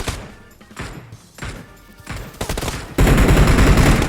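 Gunfire rattles through a shooter video game match, starting as scattered bursts of shots and then swelling into a loud, dense, continuous barrage of rapid fire near the end.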